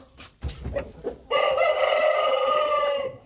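A rooster in a backyard chicken coop lets out one long, loud crow after a few scattered clucks and rustles, the crow carrying steadily for nearly two seconds before cutting off.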